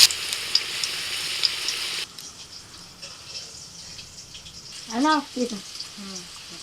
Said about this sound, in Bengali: লবণ আর হলুদ দিয়ে আলুটাকে ভালো করে ভেজে নিই